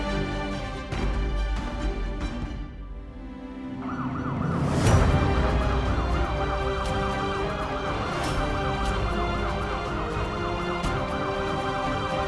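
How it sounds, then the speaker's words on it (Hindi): A loud wailing siren rises and falls in a steady cycle, close by, over a low engine rumble with no voices. "भैया सायरन ऑफ करो प्लीज।"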